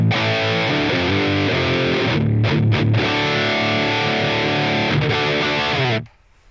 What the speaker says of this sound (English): I'm choosing the Revv Gen Purple and it sounds something like this, only the amp and cabinet.